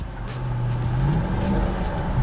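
A car engine accelerates and revs, its pitch climbing smoothly as the loud, close engine note builds over the full stretch.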